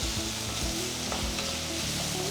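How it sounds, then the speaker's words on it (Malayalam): Tomato and curry leaves sautéing in a pan give a loud, continuous close sizzle with faint stirring underneath. "ടൊമാറ്റോസ് നന്നായിട്ട് ഉടയുന്ന വരെ ഒന്ന് വഴറ്റിയെടുക്കാം."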